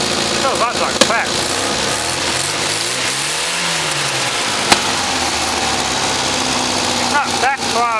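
A KE35 car engine with a freshly cleaned carburetor idles unevenly and revs up and down with a rough, sputtering tone, occasionally backfiring, close by, with a couple of sharp clicks and voices speaking over it.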